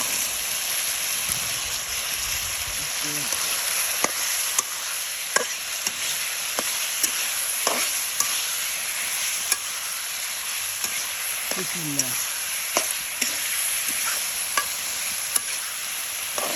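A curry with chili, salt and garlic paste fries in oil with a constant bubbling sizzle, while a spoon clicks and taps against the pot at irregular intervals.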